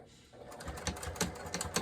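A sewing machine stitches across a small fabric coaster, its rapid needle pattering in a quick, even rhythm that starts after a short pause and runs steadily at close range.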